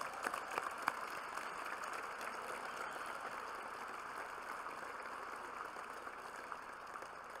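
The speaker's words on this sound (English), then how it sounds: "Round of applause for them, please." Applause from a gala audience, a faint, even wash of many hands clapping at a distance that holds steady throughout.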